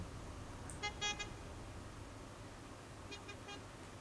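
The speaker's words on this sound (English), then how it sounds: "Can you stop honking at me, please?" Two short bursts of a car horn honking in city street traffic in Kuala Lumpur, moderately distant, the first pair near the start and another burst later, over a steady road rumble.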